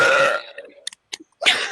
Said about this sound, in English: I have a burp.